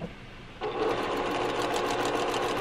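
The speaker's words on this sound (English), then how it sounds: "I'm just going to sew them right down one edge, 1/4 inch." A sewing machine stitches quilt block fabric pieces along a quarter-inch seam, starting abruptly after a brief pause and running with a steady, close mechanical whir.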